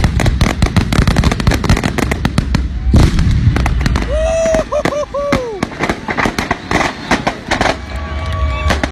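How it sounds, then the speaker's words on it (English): Fireworks show booming with many big explosions and sharp crackling bursts in rapid succession, some rising whistles in the middle, loud and continuous over distant crowd noise. "This fireworks show had some big explosions."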